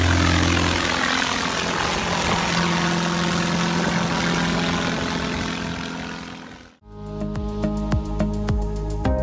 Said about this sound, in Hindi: ये एरोप्लेन खड़े खड़े ही उड़ जाता है, बिल्कुल किसी हेलीकॉप्टर की तरह।